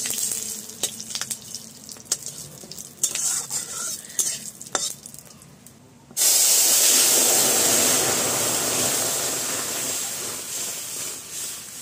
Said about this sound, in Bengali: তেল দিচ্ছি। এখানে তেজপাতা, শুকনো লঙ্কা, সর্ষে আর পাঁচফোড়ন।